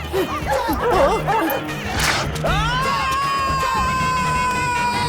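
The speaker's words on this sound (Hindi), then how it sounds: "अरे बाप रे, कुत्ते पीछे ही पड़ गए।" Dogs barking and yipping in a comedic Hindi film chase scene, excited barks mixed with crowd-like shouting and a sustained whistle-like tone, loud and close.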